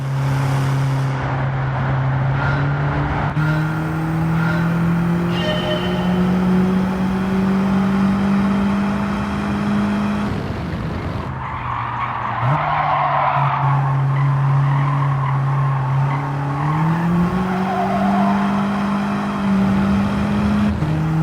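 Race car engine in Gran Turismo 7 during a license test, holding a steady droning note with upshifts and rising revs, while tires skid and squeal loudly through the corners, with no talking.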